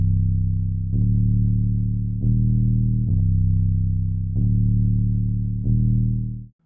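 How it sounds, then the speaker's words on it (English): Sub bass from a Wonder Girl plugin following a three-note progression, part of an FL Studio remake. A loud, sustained, slightly distorted low tone shifts pitch a few times without gaps, then cuts off at the end. "It just follows this 3-note progression."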